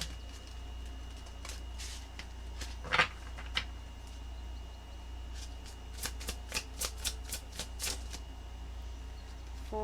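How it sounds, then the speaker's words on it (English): Tarot cards are shuffled close up in a series of quick riffles and slaps over a steady low hum. Birds coo faintly in the background. "Let's go ahead and check out your tarot cards here."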